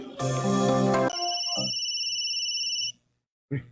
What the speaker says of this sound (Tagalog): Sa barang cellphone, saba man kayo.